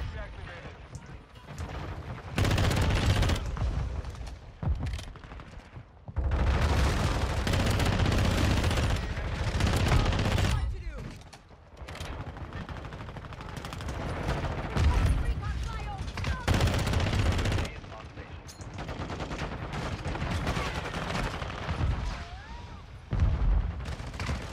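Shotgun blasts in Call of Duty MW2 gameplay: loud, heavy shots and bursts spread through a busy stretch of game noise, with a few brief lulls between clusters of firing.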